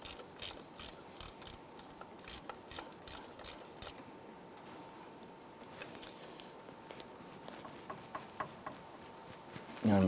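Ratchet wrench tightening the bolt on an AC bypass pulley of a 1994-2004 Ford Mustang, a faint rapid series of metallic clicks in short bursts, close and quiet, with a brief louder knock at the end.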